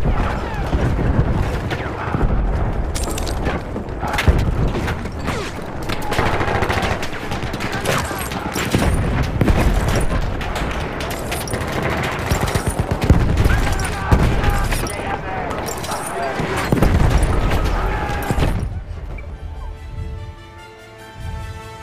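A grenade explosion and dense gunfire from a Battlefield 1 battle at Amiens, with rapid machine-gun bursts and booms rolling loudly and continuously, fading near the end as music takes over.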